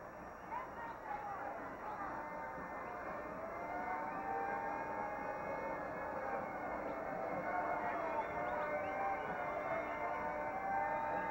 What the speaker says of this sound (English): You can hear the horn in the background